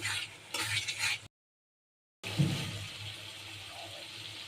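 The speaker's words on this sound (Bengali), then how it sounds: "ভালো করে মশলাটা কষিয়ে নেব তেল ওঠা পর্যন্ত" Spice paste for beef liver curry frying and stirred in hot oil, a steady loud sizzle and scraping that cuts out briefly, then resumes close by.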